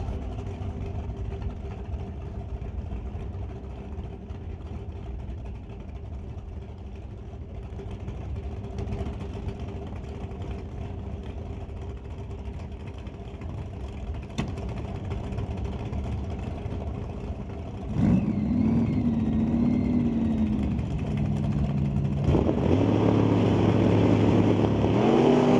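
Drag racing cars, a 1995 Pontiac against a 1977 Chevy with a 406 cubic inch small block, idle with a steady low engine drone that swells louder near the end as revving builds, with no talk.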